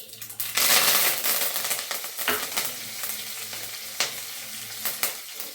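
Curry leaves and dried red chillies hit hot oil for a chicken pickle, flaring into a sudden loud sizzle that slowly settles into steady frying, with sharp crackling pops scattered throughout.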